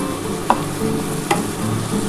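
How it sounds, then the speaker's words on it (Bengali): Onion, tomato, ginger, garlic and potato fry together in a pan, giving a steady sizzle broken by a few scraping stirring strokes. "এই যে পেঁয়াজ টমেটো আদা রসুন এগুলো সমস্ত আলুটার সাথে আমি কিন্তু ভেজে নিচ্ছি খুব ভালো করে"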